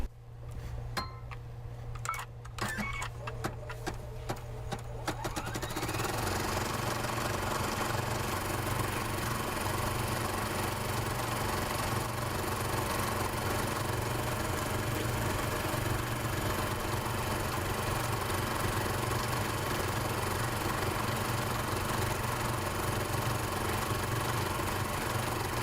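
Embroidery machine stitching a foliage design, a steady loud mechanical whir with constant vibration that starts up after a few seconds of quieter handling sounds and then runs unbroken to the end.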